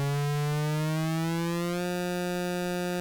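Arturia Modular-V software synth oscillator with both pitch and pulse width modulated, giving a steady, buzzy tone whose timbre slowly shifts while the pitch drifts slightly; loud, continuous and alone.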